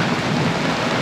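A heavy thunderstorm pours rain as Hurricane Hilary approaches, giving a dense, continuous roar of downpour with deep rumbling underneath that stays loud and steady for about a second.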